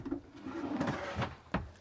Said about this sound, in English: We have lots of storage with soft close drawer slides.